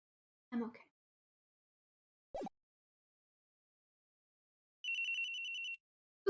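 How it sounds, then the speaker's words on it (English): A cell phone rings in the Ace Attorney game, a short electronic trill of a ringtone, clean and isolated between brief game sound effects and silence. "Ooh, a cell phone."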